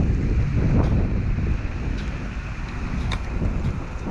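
Steady wind gusts over the ocean at a boat launch along a seaside bike trail in South Portland, Maine, buffeting the microphone with broad roaring noise and faint surf underneath.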